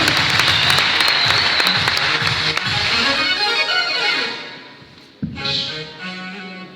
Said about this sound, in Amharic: በደንብ አጨብጭቡ